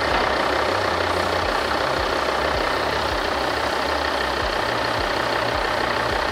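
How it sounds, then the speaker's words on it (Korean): A Volvo XC60 engine idles steadily up close, an even low rumble with a faint regular pulse and a constant hiss. "엔진 소리 일정하고 좋습니다"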